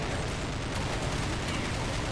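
Rapid bursts of gunfire from the video game Counter-Strike Nexon Zombies in zombie hero mode, a dense, continuous crackling barrage filling the whole moment at moderate loudness with no clear gaps.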